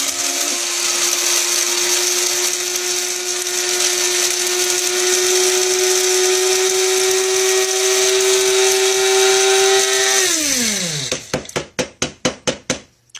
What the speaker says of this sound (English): I'm just going to pour it into the coffee grinder